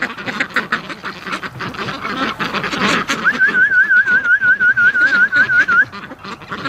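Ducks in a flock quacking in a yard beside a lake, loud and close, with scattered calls throughout and a fast, regular run of quacks in the second half; no speech.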